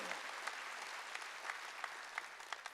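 Steady applause from a congregation during a church worship service, a dense even patter of many hands clapping throughout, moderately distant, with a few sharper claps poking out.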